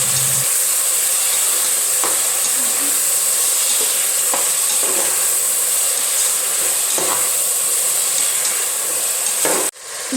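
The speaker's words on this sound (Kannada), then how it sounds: "ಈಗ ಈ ಟೊಮೊಟೊನ ಚೆನ್ನಾಗಿ ಸ್ಮೂತ್ ಆಗೋವರೆಗೂ ಚೆನ್ನಾಗಿ ಬೇಯಿಸ್ಕೋಬೇಕು." Tomatoes cooking down in a pan for mushroom palav, with a loud, steady sizzling hiss and occasional light stirring taps, close by, ending in a brief pause.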